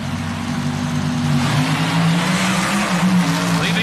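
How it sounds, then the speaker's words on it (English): A methanol-burning supercharged funny car and a dragster launch side by side at a 1977 NHRA drag race, their engines roaring loud and steady with a rising pitch as they leave the line, under faint announcer talk. "Leaving the line together, Armstrong beginning to pull a bit of a lead"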